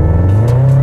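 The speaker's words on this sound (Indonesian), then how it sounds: "Knalpot udah diganti, bukan yang standar" A car with an aftermarket, non-standard exhaust revs nearby, a loud, deep droning engine note that climbs steadily in pitch over a brief moment.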